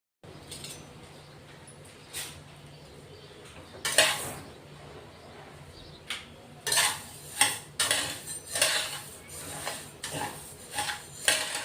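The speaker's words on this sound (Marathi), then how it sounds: "तर आपण हे धने आता भाजून घेणार आहेत, मस्त खमंग भाजून घेणार आहेत।" Whole coriander seeds dry-roasted in a pan, a metal spoon scraping and clinking in irregular bursts as they are stirred, quiet and close with no talking.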